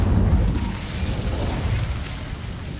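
An Incendio fire spell bursting in Hogwarts Legacy, a loud whooshing boom that hits at once and then fades into a rumbling, crackling tail over a few seconds.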